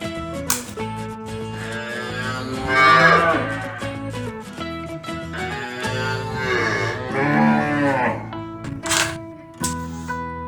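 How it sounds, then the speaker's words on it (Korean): A cow moos in a long, loud, wavering call that rises and falls over about ten seconds, backed by steady musical tones throughout. "cow,"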